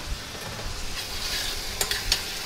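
Jerusalem artichokes sizzling in a pan of foaming honey and ginger, giving a steady close hiss with a few brief stirring scrapes and louder crackles near the end, no talk.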